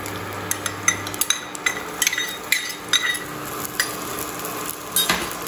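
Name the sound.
ginger and garlic slices frying in hot oil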